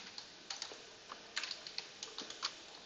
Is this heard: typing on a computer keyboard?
yes